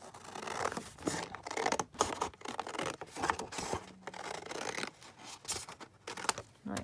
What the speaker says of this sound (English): I'm thinking again, cut this down